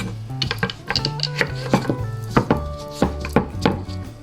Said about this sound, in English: Get them cut up and put into the pot.